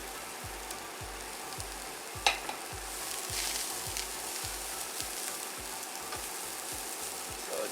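Grated cauliflower rice fries in a pan with a soft, steady sizzle. Regular low stirring scrapes come about twice a second, and one brief sharp clink breaks in partway through.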